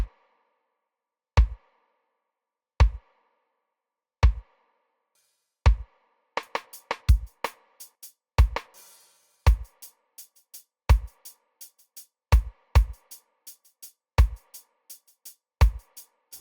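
A reggae drum beat with a rim sound plays as evenly spaced heavy kick hits, first sparse and alone, then joined by quick crisp rim clicks filling the gaps in a steady looping rhythm.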